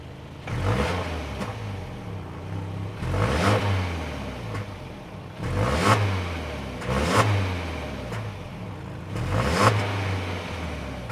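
Subaru Forester 2026 Premium's 2.5-liter boxer four-cylinder engine revs up repeatedly, five rising bursts that swell and fall back to a steady idle between them, loud and close with no talking.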